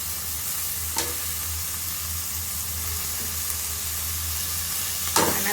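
Tomato and mixed vegetables stir-fry in a pan at home, an even, fairly loud sizzle with a low hum, broken by two brief scraping stirs of a spoon.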